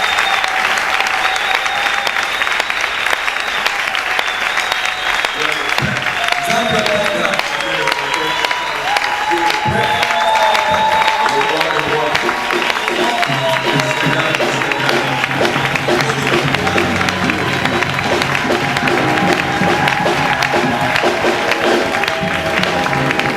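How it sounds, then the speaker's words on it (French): A church congregation applauds and cheers loudly and steadily for over twenty seconds. The clapping is dense and continuous, with shouting and voices mixed in throughout. "Est-ce que quelqu'un peut m'aider à acclamer Dieu le Père?"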